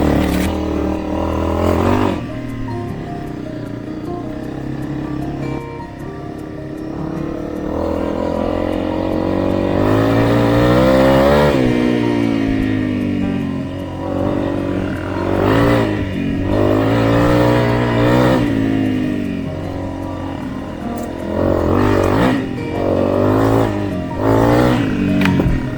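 A 2024 Honda CRF Rally motorcycle ridden on a mountain trail at Widgee, its engine rising and falling through repeated revving surges, loud and close, with brief pauses between throttle bursts.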